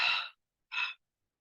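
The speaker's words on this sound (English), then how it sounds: "So you're breathing in through the nose and then exhaling through the mouth." Two breaths: a longer airy draw followed, after a short pause, by a shorter breathy puff, close and soft, as in breathing in through the nose and out through the mouth during a relaxation exercise, with no talking.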